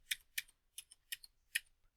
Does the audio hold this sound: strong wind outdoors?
no